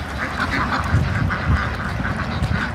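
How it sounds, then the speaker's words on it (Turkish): Ducks quack on a farm, a dense, continuous chorus of many overlapping honking quacks at moderate loudness, with no one speaking. "Siz isterseniz ördeklere bakın"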